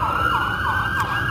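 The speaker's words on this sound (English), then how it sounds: "I don't know if the police or it's an ambulance." A police or ambulance siren wails in a steady rising-and-falling cycle, loud and continuous over low road rumble, with no talk.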